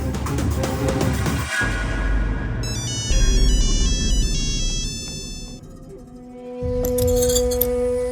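A mobile phone rings in a Hindi crime drama scene, its melodic electronic ringtone repeating loudly over a tense background music bed with no speech.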